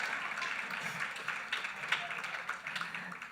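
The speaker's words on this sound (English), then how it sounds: "You're supposed to clap me right here." A crowd at a closing ceremony applauds, a dense, steady patter of many hands clapping at moderate loudness through the whole stretch, with no break and a voice faintly under it.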